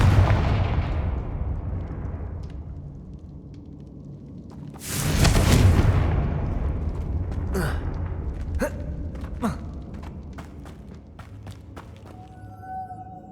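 Fiery Confringo spell explosions burst in Hogwarts Legacy, with a heavy rumbling boom that fades out, a second loud blast midway, then scattered sharp magical impacts and faint chimes.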